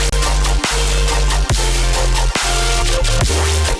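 Color bass electronic music drop, dense bright synth chords over heavy sub bass, punching in rhythmic stabs with brief gaps, loud and full with no voices.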